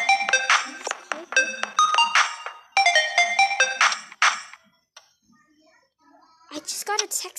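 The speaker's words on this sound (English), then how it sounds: "I just got a text message." A phone's text message alert rings out as a loud, bright melodic tone repeated in several bursts, followed by a pause and then a short burst of noisy clatter.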